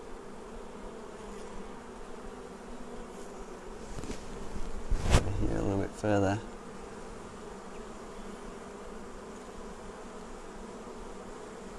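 Honey bees on a hive frame keep up a constant close buzzing drone, joined midway by a brief clatter and a short spoken comment.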